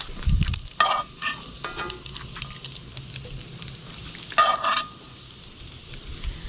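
Bacon frying in a pan on a barbecue cook, a steady close sizzle with bursts of louder crackle and the scrape of a utensil moving strips around.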